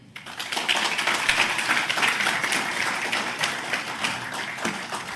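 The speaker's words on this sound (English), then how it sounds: "Request all of you to give him a warm round of applause for this momentous announcement" An audience applauds at a Google–Andhra Pradesh memorandum signing event for a Vizag data centre, with dense sustained clapping that fills the whole stretch at steady loudness and no speech.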